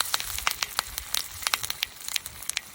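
Two large fish fry in oil on a banana leaf, giving a steady stream of sharp crackles and pops at close range, with no talking.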